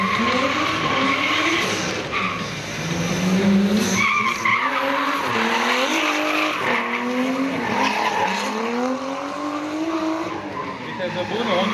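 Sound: drift car skidding with tire squeal during judged run

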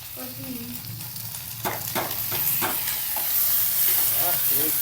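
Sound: tadka, spices frying in hot oil

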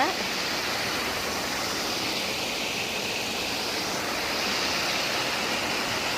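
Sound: water flowing in irrigation channel

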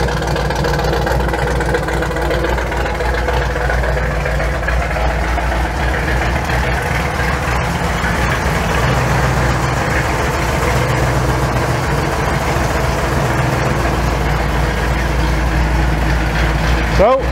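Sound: truck engine idling with Holley Sniper EFI

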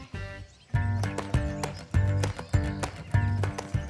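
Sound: horse being ridden bareback

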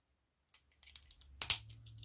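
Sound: detachable stack pressed and clicked onto Blazing Teens toy

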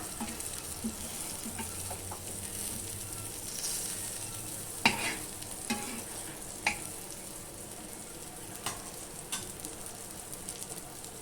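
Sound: bottle gourd slices being sautéed in a pan

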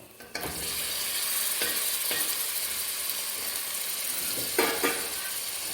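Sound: yogurt-marinated chicken added to hot pan for biryani

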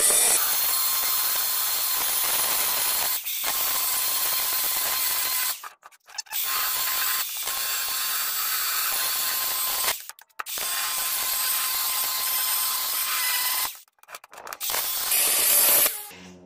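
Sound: cutting disc cutting through ballast

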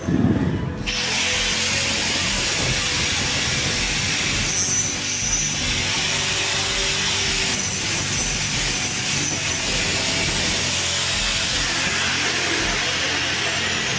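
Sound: cutting LED strip light casing to size

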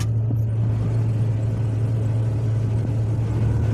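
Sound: combine harvester engine starting up

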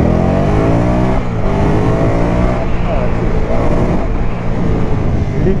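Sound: three-wheeled motorcycle accelerating in first gear

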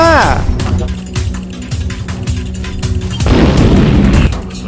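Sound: robot shooting and explosion in a video game

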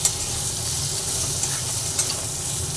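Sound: potatoes frying in a pan

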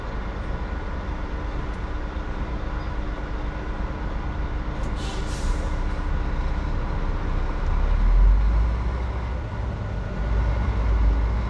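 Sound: truck passing with air brakes

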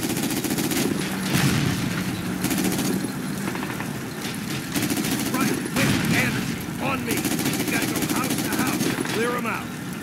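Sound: gunfire in a World War II video game

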